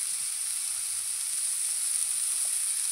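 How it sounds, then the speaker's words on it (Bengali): Taro frying in a pan gives off a thin, steady, high sizzle that holds at one level throughout, close and alone with no one talking. "কচুটাকে ভালো করে একটু ভেজে নেব"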